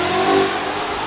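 A Chevrolet Camaro SS at a car meet, its engine holding a loud, steady mid-pitched rev for a brief moment, close by, with no voices over it.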